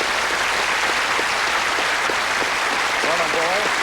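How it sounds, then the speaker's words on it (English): A 1980s British TV game show studio audience gives loud, sustained applause throughout, with a host's voice talking over the clapping toward the end. "Deserves a big round of applause"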